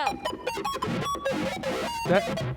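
Squawky, glitchy electronic chirps and screeches tumbling over one another in quick, chaotic bursts, harsh and close, like a synthesized bird shrieking.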